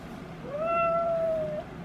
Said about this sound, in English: He purrs every time you say his name.